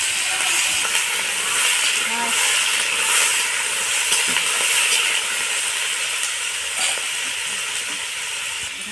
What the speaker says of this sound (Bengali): আমি এই সবজিগুলোকে এখন হালকা করে ভেজে নেব